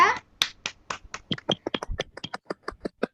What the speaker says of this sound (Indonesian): Beri tepuk tangan untuk Mbak Iza